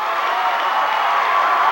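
A home crowd at a Plymouth vs. Warsaw high school basketball game, the Tiger Den, roars with steady cheering and applause that fills the gym as a continuous, loud wash of voices.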